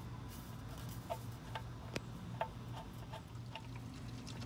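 Motor oil drips from the loosened drain plug of a Dodge Caravan into a drain pan, a few soft irregular ticks and plops over a steady low hum, quiet and close.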